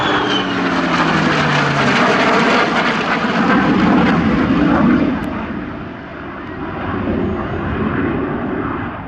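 A CA-18 Mustang Mark 23 propeller warbird flies past at the Shellharbour airshow, its loud, steady engine roar swelling and easing as it passes overhead, with no voices.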